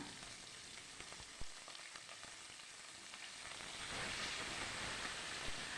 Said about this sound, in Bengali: এবার মাছের মাথাগুলো ভাজা করছি